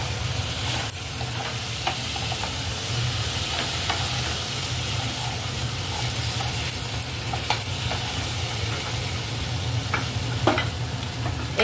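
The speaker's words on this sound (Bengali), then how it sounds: "এগুলো দিয়ে ভালো করে ভাজা ভাজা করা হচ্ছে।" Potatoes and turnips stir-fried with chili paste in a pan for a katla fish and turnip curry, giving a steady close sizzle and crackle with occasional utensil scrapes throughout, no talking.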